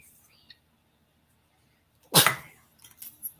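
A single sharp sneeze bursts out after a near-silent stretch, followed by a few faint rustles.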